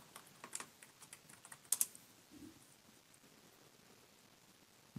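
Scattered, faint keystrokes on a computer keyboard tap out a password during a software install on an Ubuntu desktop, a few quick clicks in a quiet room with a louder tap at the end.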